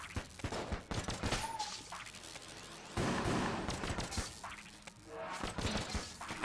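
Rapid bursts of gunfire from the video game Enter the Gungeon, dense overlapping shots with crashing impacts rolling on steadily throughout, loud and close.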